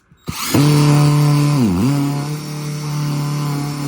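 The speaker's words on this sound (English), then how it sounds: "I'll put it right in the middle of this knot right here" A Harbor Freight Bauer impact driver drives a screw into a knot in wood. After a sharp click, a loud, close motor whine starts, dips briefly in pitch as it bogs down, then carries on steadily.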